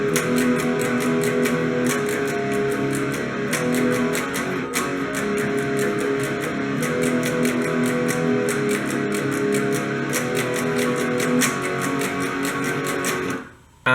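Electric guitar playing the chorus of a song, a dense sustained strummed sound with steady rhythmic picking through the whole passage, loud and without talk, ending abruptly.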